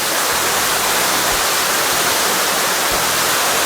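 Small waterfall fed by irrigation water on a farm lot in Majayjay, Laguna, giving a steady, loud broadband rush of falling water that stays even and continuous throughout, with no talk over it.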